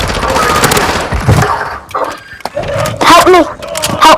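Gunfire in the video game Call of Duty Warzone, Vondel map: a dense burst of rapid shots up front, then scattered sharp pops, mixed with loud, urgent shouting voices.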